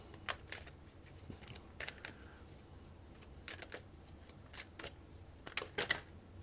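Tarot cards are shuffled and drawn in quiet, intermittent bursts of papery flicks and slaps separated by short pauses, close by, with no speech.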